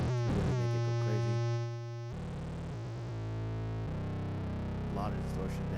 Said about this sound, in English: A lot of distortion there.